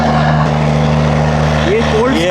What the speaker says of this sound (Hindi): ये एग्जॉस्ट है अगर आप सुन पा रहे हो तो। This is how loud this car is.